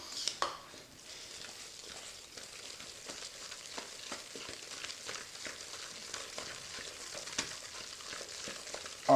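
Cream whipped in a bowl as homemade butter begins to form, a soft continuous churning and swishing with faint taps, close and steady throughout, without speech.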